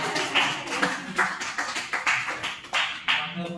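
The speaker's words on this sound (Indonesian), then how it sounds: "Kasih tepuk tangan untuk beliau." An audience at a school teachers' program claps in a steady burst of applause, many hands beating close together with small surges and dips, no talk over it.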